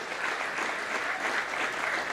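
Dense, steady audience applause at a Hindi political-satire poetry recital fills the whole stretch, loud and continuous with no voices on top.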